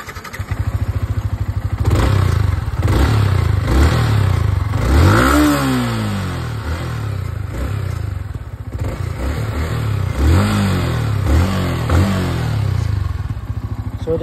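A motorcycle engine revs repeatedly up and down, loud and close, with rising and falling whines over a continuous idle rumble and mechanical clatter; no speech.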